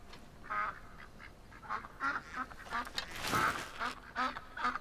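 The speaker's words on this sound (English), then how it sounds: "Awful lot of ducks around. Maybe they'll help. All their noise will help cover my approach here." In a Skyrim-style fantasy video game at dusk, ducks quack repeatedly in a busy chorus of nasal calls. One louder, noisier burst stands out in the middle, and no one speaks.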